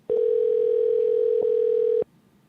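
A telephone ringback tone heard while placing a call: one steady, loud electronic tone that runs unbroken for about two seconds and then cuts off, with no talking over it.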